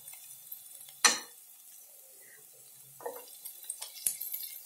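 Capsicum stir-fried in a pan, heard as a sharp clatter of a spatula followed by faint sizzling and a few soft scraping stirs, quiet and close with no talking.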